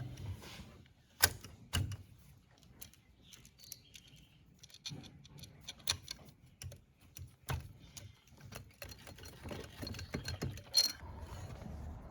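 Mallet tapping loose the cylinder head of a Honda XR70 motorcycle engine during a top-end rebuild, producing scattered close knocks and metallic clatter at irregular intervals, with no talk.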